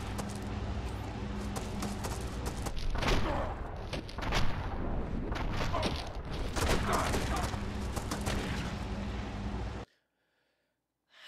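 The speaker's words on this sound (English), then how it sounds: "How did he shoot me on the floor?" Dense, continuous gunfire from the Enter the Matrix video game, rapid overlapping shots in a steady barrage for nearly ten seconds before cutting abruptly to silence.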